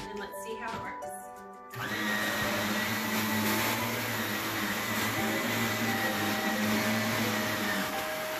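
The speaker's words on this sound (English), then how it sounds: "Pull out that Shark Navigator vacuum and let's see how it works." A Shark Navigator Lift Away bagless vacuum cleaner starts up after a short stretch of faint sounds, then runs with a steady, loud motor whine and airflow roar for several seconds.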